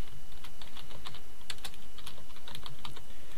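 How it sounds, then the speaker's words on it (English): Close, brisk typing on a computer keyboard, with a quick run of uneven key clicks and taps over a quiet background and no voices. "And description, I'm going to type in movie ticket."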